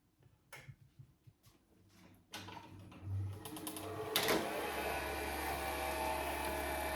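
An HR freeze dryer's vacuum pump starts up after a few clicks and taps, ramping into a steady, close mechanical drone with a low hum beneath a brighter whirring buzz.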